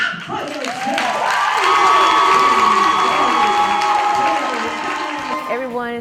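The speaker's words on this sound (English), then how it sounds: "I said, clap for yourself." An audience claps and cheers loudly, with whoops and shouting rising to a peak and then easing off, while voices carry over the top of the crowd.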